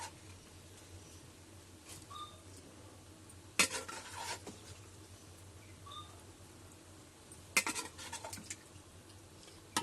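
Cooked chicken meat goes into a pot for chicken biryani, with two brief clattering bursts of a spoon against the cookware. Faint scattered clinks fill the quiet room between them.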